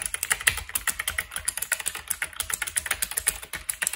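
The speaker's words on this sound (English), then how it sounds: "let me go ahead and do a typing test." Rapid, steady clacking of a Logitech K845 mechanical keyboard with clicky blue switches, dense keystrokes close up and alone with no talk.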